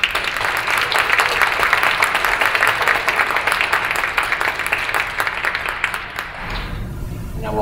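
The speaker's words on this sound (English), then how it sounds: "let's do an extra round of applause." A concert audience claps steadily at a benefit music event for several seconds before the applause dies away.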